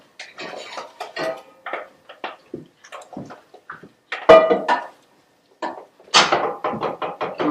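Grana padano being whisked through risotto in a pan, heard as a run of close, uneven knocks and metallic clinks in short bursts with brief pauses between them.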